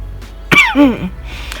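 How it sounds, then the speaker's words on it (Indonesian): A single harsh cough bursts out up close, followed by a brief rasping throat sound, then quiet. "Aduh, batukku tidak sembuh-sembuh"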